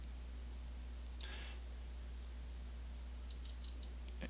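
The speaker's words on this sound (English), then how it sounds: "you'll get a little beep that says it's miswired" A Fluke 620 cable tester gives a short beep when it detects a miswired network cable. The beep is faint, high and pulsing, about half a second long, in a quiet room near the end.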